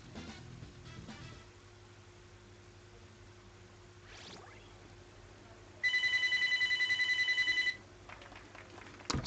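A telephone rings once in a short electronic trill, loud and clear over faint background noise and brief game sounds, during a fighting game session.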